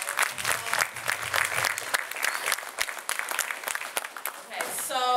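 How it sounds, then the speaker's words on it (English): Audience applauding a panel at a community conversation event, a lively burst of many hands clapping with voices mixed in, then a speaking voice rising at the close. "give our panel a round of applause"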